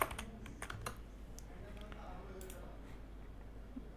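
Soft keystrokes tap on a computer keyboard in a short, irregular burst at the start, then thin out to a few faint clicks over a quiet room hum.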